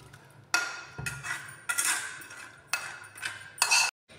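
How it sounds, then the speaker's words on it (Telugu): A spoon clinks and scrapes in a bowl as dry fruits, nuts and seeds are mixed into sugar syrup for plum cake, in uneven bursts of metallic knocks that end in silence. "ఇప్పుడు మనం షుగర్ సిరప్లో వేసుకున్న మన డ్రై ఫ్రూట్స్, నట్స్, సీడ్స్ అన్నీ ఇలా మిక్స్ చేస్తాం"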